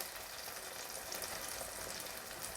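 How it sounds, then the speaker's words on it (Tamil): Lemon pickle frying in a pan with chili powder and asafoetida, a faint, even hiss of sizzling that holds steady throughout without breaks. "போட்டு நல்லா வதக்கி எடுத்துக்கலாம்"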